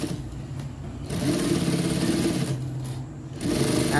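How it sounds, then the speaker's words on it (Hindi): Sewing machine stitching magzi piping onto fabric at a tailoring table, a steady mid-pitched motor whir running in bursts with brief pauses, close and fairly loud, no talking. "ऐसे सिलाई लगानी है।"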